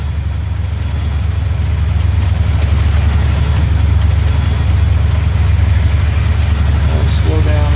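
Train rolling along track in a Montana railroad video game, a loud steady low rumble with a rhythmic clatter of wheels, heard close with no speech, and a brief metallic squeal near the end.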